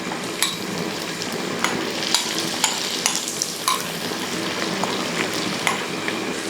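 Crushed onions hit a pan of frying ginger and garlic for a kanthari chicken curry, giving a steady close sizzle with periodic sharp clicks of a spoon stirring against the pan.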